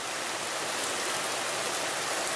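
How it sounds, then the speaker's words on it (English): Heavy rain from Tropical Storm Alberto pours down steadily in a yard, a dense, loud, unbroken hiss of falling water with no voices. "it's finally raining hard"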